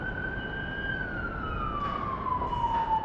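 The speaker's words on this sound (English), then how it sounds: "the sound of police cars answering emergency calls" A police car siren wails across London streets, a steady tone sliding gradually downward as it recedes against a constant bed of city traffic rumble, with no talk.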